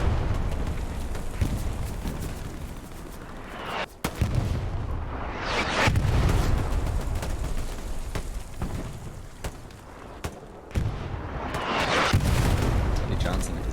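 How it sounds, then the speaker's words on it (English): Heavy artillery fire in a large-scale multiplayer war video game match, a continuous rumble of booms and explosions with louder swells, while a voice talks over the battle. "That artillery is pretty well dialed."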